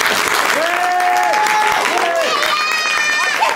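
Audience at a children's improv theatre show applauding loudly and steadily to cast a vote, with high children's voices squealing and calling out over the clapping throughout.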